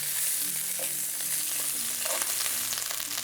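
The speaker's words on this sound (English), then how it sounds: "We're 3 to 4 minutes in cooking the sausage" Italian sausages fry in a hot pan while browning, giving a steady close sizzle and crackle throughout, with a few soft pan or utensil touches and no talking.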